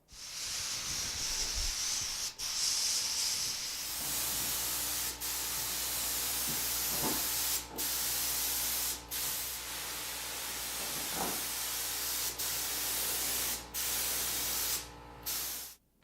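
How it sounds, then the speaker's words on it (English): A paint spray gun spraying toner onto French doors hisses continuously for a long stretch, with brief clicks and short pauses as the trigger is released and pulled again. "put my mask on and hook up my gun and spray some more"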